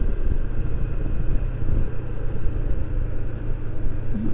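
A car engine rumbles steadily and close by during an attempted second consecutive downshift while the gearbox refuses to change gear. The drone is low and loud throughout, with no voices.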